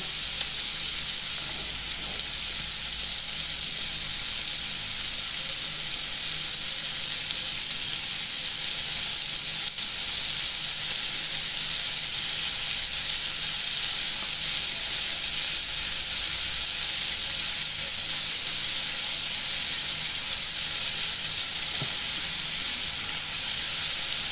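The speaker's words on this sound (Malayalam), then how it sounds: "ഈ സബോളയിലേക്ക് നമുക്ക് വഴറ്റെണ്ണയിൽ ഇത്തിരി ഉപ്പിടാം കേട്ടോ" Onions sautéing in oil in a home kitchen pan give a steady, continuous sizzle and hiss throughout, fairly close and even in level, with no talking over it.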